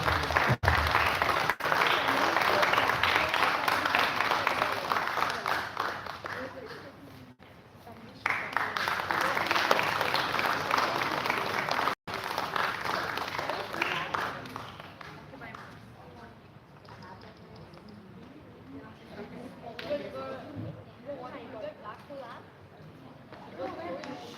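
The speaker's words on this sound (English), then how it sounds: "A round of applause, everyone." Sustained applause from an audience, steady clapping that fills the room for over twenty seconds, briefly dipping before continuing.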